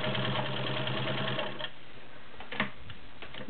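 A Janome 671 all-metal home sewing machine with a size 16 needle stitches through five layers of denim. The motor whirs rapidly and evenly, easing off at about midway with a few faint clicks after.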